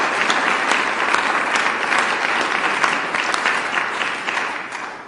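Sustained, dense applause fills the room from the audience at a State of the State address, steady throughout and easing slightly at the end.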